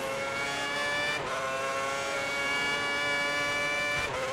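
A Formula 1 car on a practice lap in the racing game F1 2010 holds a steady high-pitched engine whine, with brief dips around gear changes, loud and continuous with no talk.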